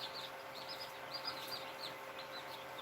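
Australorp chicks chirping in a brooder, a steady stream of faint, high, overlapping peeps and tweets continuing throughout with no pauses.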